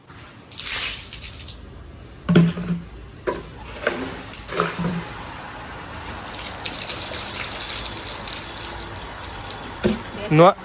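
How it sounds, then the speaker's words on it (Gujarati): A container being filled with water: a rushing, trickling pour flows steadily at mid distance while people talk intermittently over it. "પાણી ભરી લીધું છે"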